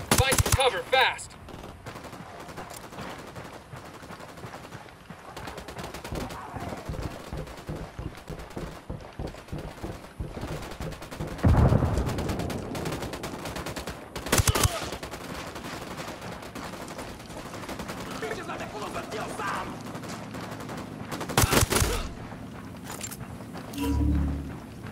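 Gunfire in the video game Ghost Recon Wildlands, with bursts of shots spread across the scene, several loud sharp volleys standing out over steady background action and footsteps.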